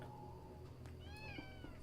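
A pet cat meows a few times at close range, with a quiet, steady indoor background hum.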